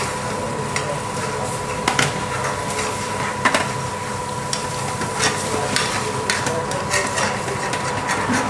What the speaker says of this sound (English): I'm just going to give it a quick stir.